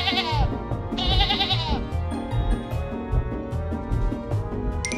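A sheep bleats loudly twice in quavering calls over a busy, low rumbling background, with a brief higher bleat near the end.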